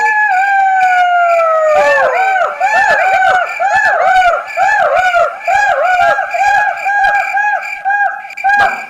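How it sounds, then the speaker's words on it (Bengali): A pack of jackals howls at night as a cartoon sound effect, long rising and falling wails layered over one another, loud and continuous, with short yips breaking in. "সেখানে বাস করে কিছু শিয়াল। রাত গভীর হলেই তারা ডাকাডাকি শুরু করে দিত।"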